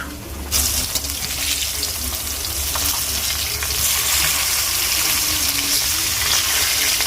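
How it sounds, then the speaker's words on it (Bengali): Potatoes frying in hot oil, a loud continuous sizzle that swells after a sudden start, with faint clinks underneath. "এখন এই যে আলু ভাজা হচ্ছে তেলে"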